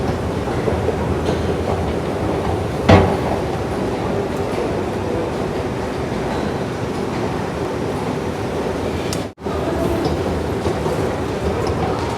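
Steady, loud rumble of a Dubai metro train in motion, with constant rolling rail noise, one brief sharp click, and a short drop in sound near the end.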